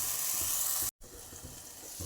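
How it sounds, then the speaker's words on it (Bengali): Small-fish paturi parcels frying in a pan, giving a steady bright sizzle that cuts out briefly for a moment before resuming, with no talking. "পাতুরিগুলো আর একটা পিঠ ভাজবো"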